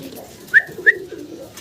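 A large, healthy pigeon coos close by, with two short, distinct calls in quick succession in an otherwise quiet setting.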